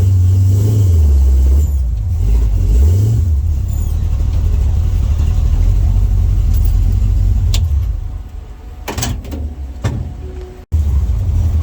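A car with a heat-soaked supercharger pulls away in third gear, its loud, close engine droning and rumbling with uneven revs, then briefly cutting out near the end.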